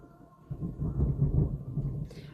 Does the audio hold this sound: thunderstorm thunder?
yes